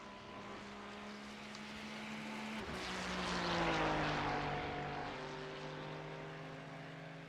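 A distant race car engine in the iRacing simulator whines with a steady pitch, swelling louder as it passes by and then fading, its tone sliding downward, with no voices.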